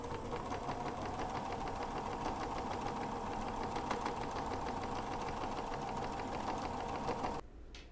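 A sewing machine runs at a steady fast pace, stitching cotton quilt pieces for an improv block, its even mechanical whir continuous and close before cutting off abruptly near the end.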